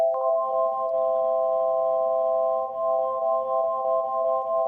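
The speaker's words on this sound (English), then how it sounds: "So if I turn it up, you get this warbly sound." Steady warbling synthesizer tone built from a single sine wave with no detune, wavering slightly in pitch and holding continuously at moderate loudness with no voice over it.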